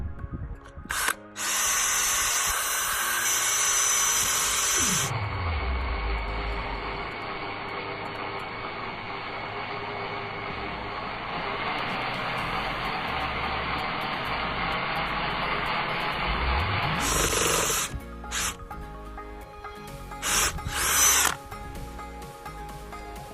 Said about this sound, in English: I think we should drill it again